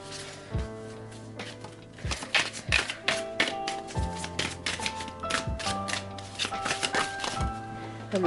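Tarot cards from an Inuyasha deck are drawn and flipped onto a surface, giving a string of close, crisp slaps and papery shuffles with irregular spacing, with faint background tones beneath.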